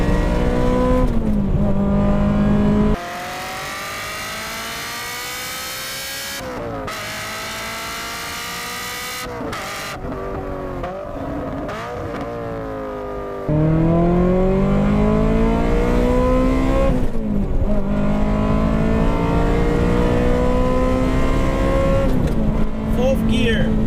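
A Ferrari F355 engine screaming through high revs while powersliding, loud rising and falling wails with gear changes and a quieter cabin stretch, voices talking over parts of it.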